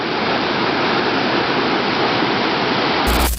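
A waterfall roars loud and close as a constant broadband rush of falling water, unbroken throughout.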